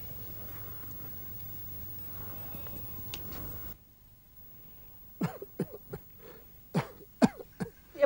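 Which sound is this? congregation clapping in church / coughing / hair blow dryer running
coughing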